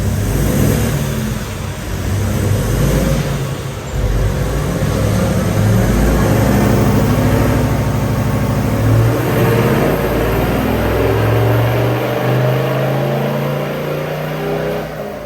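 Engine of a Toyota Landcruiser 78 series running loud and close during a baseline tune, a continuous droning roar with rising and falling revs and shifting pitch, no voices.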